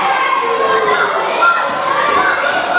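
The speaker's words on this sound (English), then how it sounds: "this crowd here at Waltham Abbey are absolutely ecstatic for the resurgence of the Bengal Tiger" A wrestling crowd at Waltham Abbey cheers and shouts loudly and continuously, with many excited voices, including high children's voices, blending into a dense roar.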